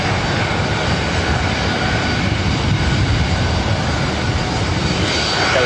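A 16-year-old Boeing 737-700 jet airliner at LAX gives a steady, loud, continuous engine roar, broadband and close, holding even for several seconds with no talk over it.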